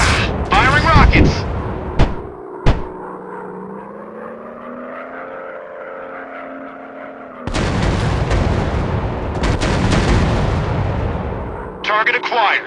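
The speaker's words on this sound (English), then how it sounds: "Target acquired. Rocket away." Rocket launches and gunfire in the World War II dogfight warplane video game, with bursts of sharp booms at the start and end, a steady aircraft engine drone in between, and game effects loud throughout.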